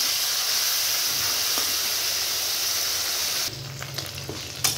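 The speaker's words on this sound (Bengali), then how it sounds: "তেলটা গরম হয়ে গেছে, এবার আমি চিংড়ি মাছগুলো ছেড়ে দেবো।" Prawns fry in hot oil with a loud, continuous sizzling hiss that drops suddenly near the end to a quieter bubbling, with light clinks of stirring.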